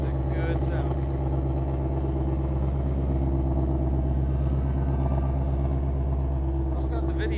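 A 2022 Ford Mustang Shelby GT500 Heritage Edition Track Pack runs with a loud, steady, deep engine rumble, unbroken and close throughout.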